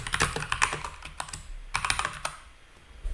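Computer keyboard typing, a close, crisp run of key clicks in quick irregular bursts with a short pause in the middle, no talking.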